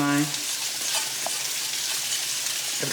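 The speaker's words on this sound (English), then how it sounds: "So here I'm adding in my grits, and immediately I've got" Grits poured into a pot and mixed make a close, steady sizzling hiss, with a short tonal hum at the very start and a few faint clicks from the mixing.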